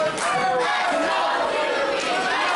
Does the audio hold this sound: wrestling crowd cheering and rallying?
yes